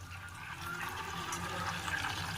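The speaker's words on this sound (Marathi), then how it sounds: "थोडस पाण्याचा शिंतोडा दिलेला आहे मी" A splash of water sprinkled into hot homemade ghee in a pan with the gas turned off, giving a steady broad sizzling hiss that stays fairly loud and continuous throughout, with no talking.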